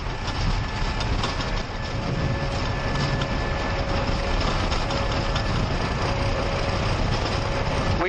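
An airliner at takeoff thrust during its takeoff roll out of Mumbai, heard from the cockpit as a loud, steady broadband engine roar with a faint tonal whine, continuous throughout.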